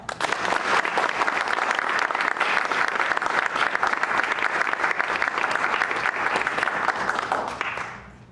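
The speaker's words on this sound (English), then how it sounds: "let's have a round of applause for Lara" An audience gives sustained, even applause for a singer about to perform at an autism awareness music talk, a thick, continuous crowd clapping that holds steady before fading out at the end.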